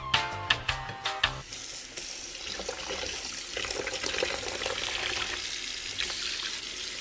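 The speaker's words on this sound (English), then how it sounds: "Wash up the knife first." A kitchen knife is washed under hot running tap water, beginning with a few clinking knocks against the sink before a steady, close hiss of flowing water takes over and continues throughout.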